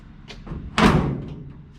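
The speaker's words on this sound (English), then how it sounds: "just the way that this door opens and shuts" An old car door being restored on a project car opens and then shuts with one solid, resonant thud, preceded by faint latch clicks, heard close up.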